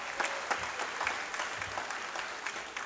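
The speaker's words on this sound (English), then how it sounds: "Please clap for them." An audience applauds young Bharatanatyam dance students at a Bangalore academy recital, a steady wash of hand clapping with scattered sharper claps, moderately loud throughout and no voices.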